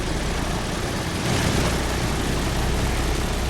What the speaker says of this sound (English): Engine number 3 is coming alive